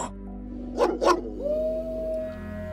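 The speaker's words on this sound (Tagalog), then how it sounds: "naalimpungatan ako sa alulong ng mga aso" Dogs at night give two short bursts of barking or yelping, then a long steady whine-like tone fades in, over a constant low hum.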